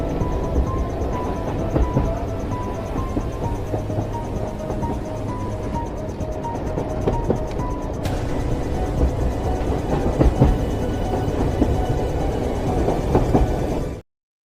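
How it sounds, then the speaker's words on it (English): A train rumbles steadily for about fourteen seconds, playing as a haunted-train sound effect on a true-crime stream, with a dense, loud rolling clatter and faint tonal whines before it cuts off abruptly. "I will grab the haunted train to pick our new members up on the way to Speculation Station."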